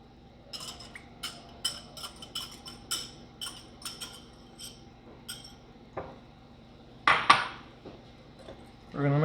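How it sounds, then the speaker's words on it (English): A spoon taps and scrapes against a bowl in quick, light, irregular clinks while yogurt is mixed into moussaka ingredients, followed by a couple of louder knocks and a brief clatter near the end. "We're gonna mix that before we throw the rest of the ingredients in."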